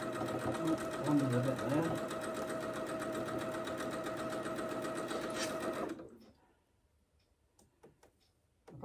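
A sewing machine runs steadily while quilting a small postage stamp patchwork quilt, a close, continuous mechanical whir with fine ticking, and a person speaks over it before the machine stops abruptly, leaving near silence with a few faint clicks.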